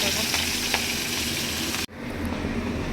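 Carrot, beans and capsicum fry in white oil, a close, steady sizzle and stir that cuts off abruptly near the end, leaving a quieter hiss.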